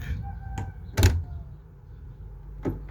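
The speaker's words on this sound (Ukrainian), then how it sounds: "Все, тепер двері легесенько закривається." A metal-plastic entrance door swings shut after adjustment, giving a few dull thuds and latch clicks up close, with a louder closing knock near the middle and another at the end.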